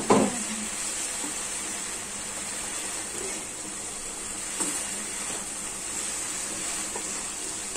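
Green rice frying in just a little oil, a steady soft sizzle and hiss running throughout with occasional faint stirring scrapes, no talking over it.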